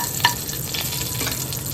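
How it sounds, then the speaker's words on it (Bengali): Cumin seeds and dried red chillies sizzle in hot oil as a tempering for a curry-leaf paneer dish. A close, steady crackle runs throughout, with one sharp utensil clink near the start. "এখানে আমি দিয়েছি জিরে ফোড়ন, শুকনো লঙ্কা ফোড়ন"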